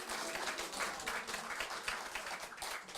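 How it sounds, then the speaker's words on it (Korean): An audience at a children's literature book launch forum claps warmly throughout, a steady and fairly close patter of many hands with no talk over it. "박수 한번 보내주십시오"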